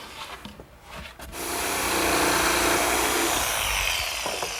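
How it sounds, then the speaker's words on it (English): A jigsaw cuts through wood for a breakfront cabinet, starting with a few scraping and handling noises before the saw whines steadily for several seconds, close and loud with no talking. "Okay, now I can finish it off with my jigsaw."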